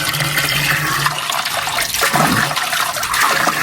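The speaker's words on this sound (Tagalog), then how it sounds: "Yan yung bukal dito, lakas oh." A strong natural spring gushes out of the ground beside a flood-prone farm plot, making a loud, continuous rush of splashing water close by that holds steady throughout without pause.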